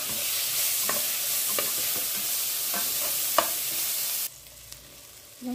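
Tomato pieces stirred into browned onions for chicken biryani sizzle loudly and continuously, with scraping stir strokes every second or so, before the frying drops away suddenly near the end.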